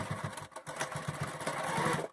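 A sewing machine stitches across a cloth mask, its motor whirring in quick, steady pulses that briefly pause and restart, fairly quiet and close.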